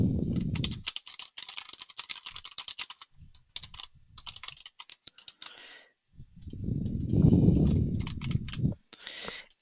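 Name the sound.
typing on a computer keyboard to fill out a contact form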